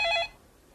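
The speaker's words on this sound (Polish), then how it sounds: "Telefon do pana." A telephone gives one brief electronic ring that stops abruptly, leaving quiet room tone.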